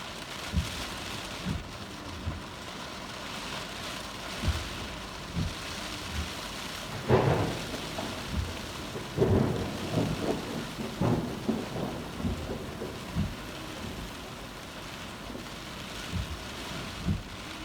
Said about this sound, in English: this thunder and lightning has been dubbed in